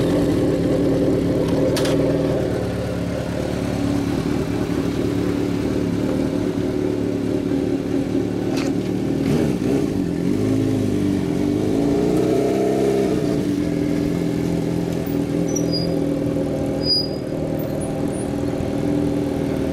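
A 1982 Suzuki GSX400FII motorcycle with an aftermarket exhaust idles loudly up close with a deep, throaty exhaust rumble, revving up and settling back a few times.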